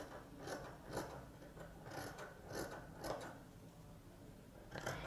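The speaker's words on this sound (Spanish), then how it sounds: "después vamos a la máquina y lo cosemos" Sewing machine stitching a 3D fabric face mask, quiet rhythmic mechanical ticks and whirs repeating about every half second, close and without speech.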